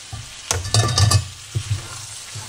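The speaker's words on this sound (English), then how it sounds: "we're gonna stir that in with all the spices and onions" Par-cooked lentils being folded and stirred into spiced onions in a pan, giving a few soft scraping stirs with a low sizzle beneath, in short separate bursts close by.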